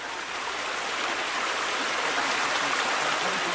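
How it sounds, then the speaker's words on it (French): Small jungle river forming the Laos border, flowing in a continuous loud, broadband rush of water with no pauses, close by and alone. "La frontière avec le Laos, c'est cette petite rivière."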